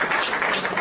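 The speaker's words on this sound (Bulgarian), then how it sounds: "Моля за аплодисменти." Audience applause at a sports awards ceremony as nominees are called up, a short dense burst of clapping filling the hall without pause.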